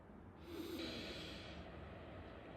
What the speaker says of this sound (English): now we are going to take a deep breath in